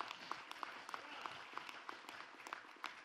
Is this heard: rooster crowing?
no